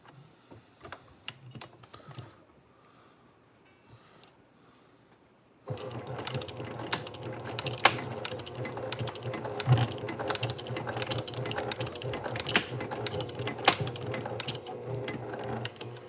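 A Brother PQ1500SL sewing machine stitching a Stadium Game Day Bag starts after a few quiet seconds of faint handling, then runs continuously with a loud, rapid, rattling needle rhythm close to the microphone.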